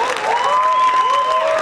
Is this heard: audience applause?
yes